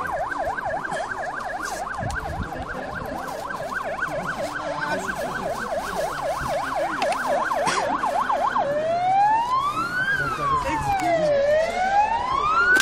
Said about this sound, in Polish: Widzimy już, i słyszymy karetkę, która, która do nas podjeżdża.